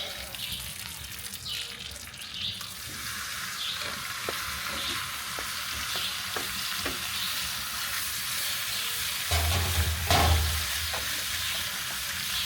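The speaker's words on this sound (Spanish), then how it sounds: "voy a poner la mantequilla y la carne para dorarla" Meat browns in butter in a pan over high heat on an outdoor wood fire at a hot-springs campground. A steady, loud sizzle runs throughout, with occasional stirring clatter and a brief low thump near the end.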